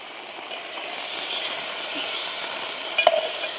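Tomato paste hitting hot oil with onion and ginger-garlic paste in a pan, a steady broad sizzle throughout with a brief louder burst and clink near the end, no talking.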